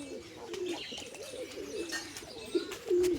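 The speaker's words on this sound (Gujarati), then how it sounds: "આ કબૂતરનો બચ્ચા થઈ ગયેલો છે" Pigeons cooing nearby where chicks have hatched, soft low throaty coos repeating unevenly with faint chirps mixed in, fairly quiet and close.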